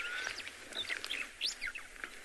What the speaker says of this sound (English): Very nice bird to see, those ground scraper thrushes.